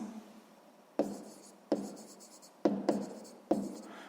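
Pen on paper writing down an answer in a sixth-grade maths exercise, five sharp scratchy strokes at uneven intervals, close and quiet, with no talking.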